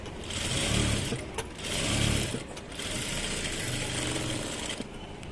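Sewing machine running in steady bursts as it stitches layered cloth, loud and close, with a whirring motor that pauses briefly between runs.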